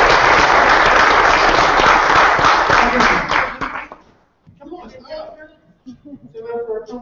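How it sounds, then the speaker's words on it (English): Audience at a training bootcamp breaks into loud sustained applause for about four seconds, then it fades and a few people talk afterward. "So please give a huge round of applause."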